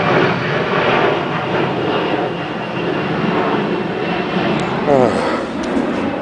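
A steady, broad roar of an airplane passing overhead fills the clip, continuous and fairly loud with no breaks.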